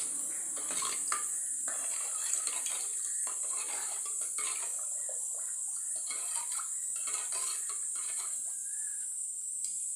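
Rice-washed water poured into a simmering fish curry (meen kulambu) pot, with a steady splashy wash mixed with light metal clinks and scraping of utensils against the pot, no talking.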